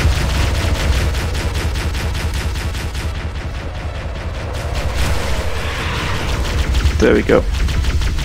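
Gunfire in Halo: Combat Evolved on the Assault on the Control Room level rattles on in a dense, continuous stream against Banshees. Voices talk over the steady shooting.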